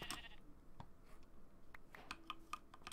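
A sheep in the Minecraft video game bleats quietly, with soft keyboard clicks and game sounds scattered around it.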